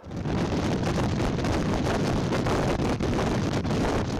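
Strong wind buffets the microphone in a constant heavy roar around power-line workers on icy poles, with gusty surges and brief dips, no voices.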